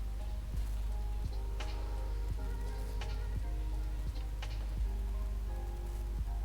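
Hail falling outside, a steady patter with scattered sharper taps and cracks of stones striking hard surfaces, fairly close and continuous, with no voices.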